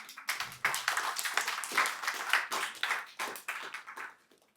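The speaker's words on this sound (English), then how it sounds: "Give him a little applause" Short burst of audience applause after a spoken story, a crowd of scattered claps building into a dense, lively patter at moderate distance, then thinning and fading out near the end, with no talk over it.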